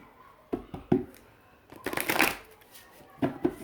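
Oracle cards being shuffled by hand in a quiet room: a few sharp riffling bursts, then a longer flurry of card flicking and a final pair of snaps, close and moderately loud.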